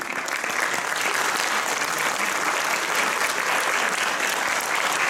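Loud, dense audience applause after a children's choir performance, many hands clapping in a continuous even roar that carries on throughout.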